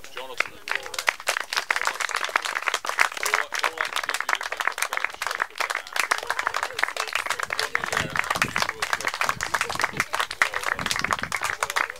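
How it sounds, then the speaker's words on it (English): Outdoor crowd at the Garway croquet final in 2019 claps steadily for the winning pair, a dense sustained round of applause with voices mixed in. "a big round of applause for Jonathan and Laura"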